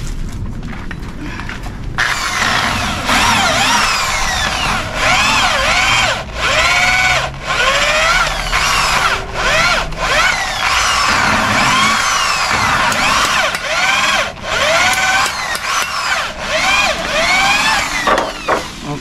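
A hand drill bores holes through metal, not on a drill press, with a continuous high whine that rises and dips as the bit bites, loud and close for most of the stretch.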